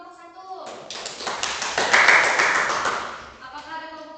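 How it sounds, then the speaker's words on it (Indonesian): Classroom of primary school children giving a burst of applause for a presenting group, many hands clapping together, swelling to a peak and tapering off, framed by an adult voice speaking before and after. "tepukan untuk kelompok 1"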